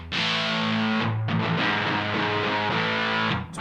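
An electric guitar played through a Mad Professor Fire Red Fuzz pedal gives a loud, gnarly, heavily fuzzed tone. Thick sustained chords run continuously with one brief change partway through, and no voices are heard.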